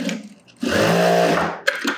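A sewing machine stitches a sleeveless top in one close, loud burst of whirring lasting about a second. A short clunk of handling follows.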